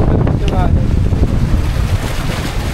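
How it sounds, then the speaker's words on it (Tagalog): Strong wind on a ship during a storm roars steadily against the microphone, buffeting loudly throughout with a dense low rumble and no pause. "Grabe, sobrang lakas na hangin."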